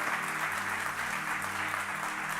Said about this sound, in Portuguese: pode aplaudir pro Senhor